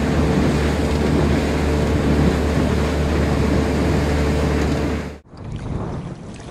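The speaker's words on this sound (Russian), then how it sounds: "Ну, лодка хорошо режет волну," A Kazanka 5M motorboat cuts through waves on the Irtysh river, a loud steady rush of engine, hull slap and spray with wind buffeting the microphone, ending abruptly as the sound drops and resumes more quietly.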